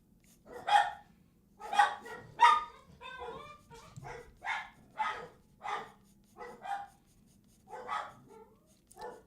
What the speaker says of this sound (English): Dogs are barking at nothing, by the way.